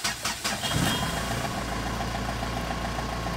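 A Mahindra Scorpio pickup engine cranks and catches after its crank sensor was cleaned, then settles into a steady, close idle with an even low rumble and no talk.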